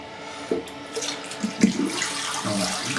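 A bathroom tap runs to warm the blade of a Merkur Progress safety razor for shaving, a steady close splashing flow with small bursts of spatter.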